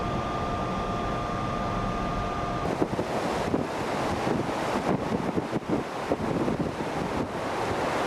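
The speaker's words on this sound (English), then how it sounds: "Wow, that's a big rogue wave" High-tide Atlantic waves flood over the Outer Banks in a continuous roaring wash, with heavy wind buffeting the microphone and bursts of surging water.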